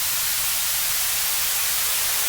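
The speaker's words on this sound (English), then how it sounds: "the white noise is going through." Synthesized white noise, used as the base for a rain sound, fills the clip as a steady, loud, unchanging broadband hiss with no other sound.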